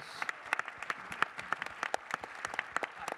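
Audience applause at an AFI Fest film Q&A for Bardo, False Chronicle of a Handful of Truths, a steady patter of many hands clapping, moderately distant and sustained throughout.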